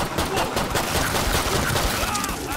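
Pistol gunfire in the video game Killing Floor 2, with dense, continuous popping shots layered into a loud, busy wash of combat noise.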